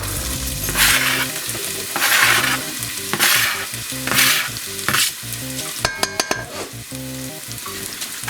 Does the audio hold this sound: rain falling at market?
no